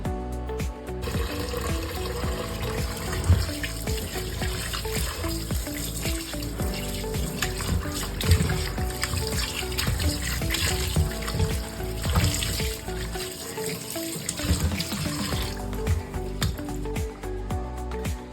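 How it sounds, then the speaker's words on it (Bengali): Chicken meat is washed under a running tap, with a steady rush of water, splashing and handling noises throughout, and a brief dip near the end. "দেখো পরিষ্কার করে মাংসটা ধুয়ে নিয়েছি"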